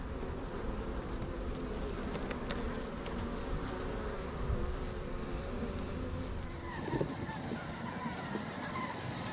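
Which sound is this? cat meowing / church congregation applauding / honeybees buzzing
honeybees buzzing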